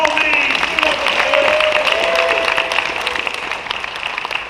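A crowd at a Megaplex 2024 fan convention panel applauds an artist, with steady, fairly close clapping that runs under voices and tapers slightly toward the end.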